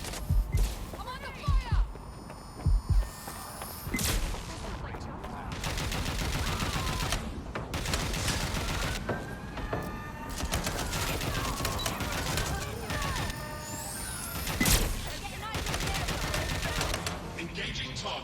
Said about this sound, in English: I hear gunshot.